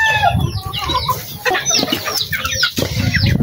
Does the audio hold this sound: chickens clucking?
yes